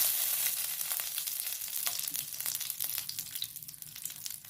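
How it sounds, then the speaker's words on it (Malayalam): Cashew nuts fry in melted ghee in a small pan, a soft, steady crackling sizzle with light popping, faint and close, with no talking. "ഇതിലേക്ക് നമുക്ക് ഇച്ചിരി അണ്ടിപ്പരിപ്പ് ഇട്ട് കൊടുക്കാം."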